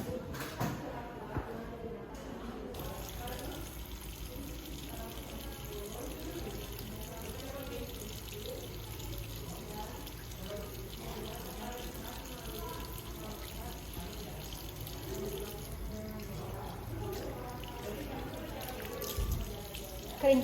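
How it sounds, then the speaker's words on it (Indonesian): Hands are washed under a running tap before a helminth lab examination, a steady pouring trickle of water continuing throughout with faint shifting splashes, and no clear speech over it. "yang pertama kita cuci tangan terlebih dahulu sebelum melakukan pemeriksaan"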